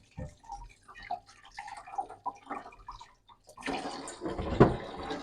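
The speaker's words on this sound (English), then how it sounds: "Wash the fruits with water, rinse it with water" Apples are rinsed under tap water after a baking soda soak, first as sparse drips and small splashes, then as a fuller steady stream of running water near the end, with no one speaking.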